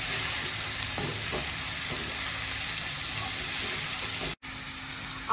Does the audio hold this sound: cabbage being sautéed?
yes